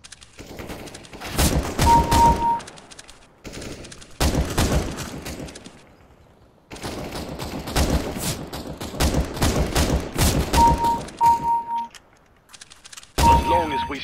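Gunfire in the game CS:GO, loud bursts of rapid shots in several volleys separated by short gaps, with metallic clangs and pinging dings between them, no talk.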